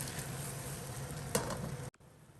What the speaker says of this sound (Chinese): 趁其不备，翻过来煎另一面